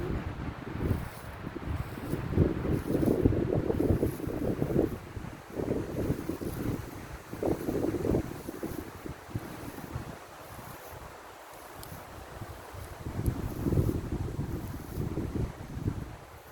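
Strong wind blows steadily for the whole stretch outdoors in a Swedish forest, buffeting the microphone in gusts with a rough, rumbling roar and a few calmer moments.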